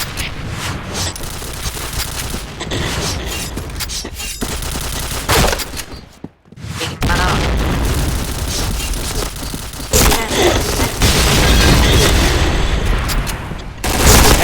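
Explosions and heavy gunfire roar through a shooting video game match, dense bursts of blasts and rapid shots, a brief near-silent gap midway, then louder booming fire resuming to the end.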